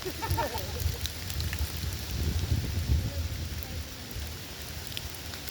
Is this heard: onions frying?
no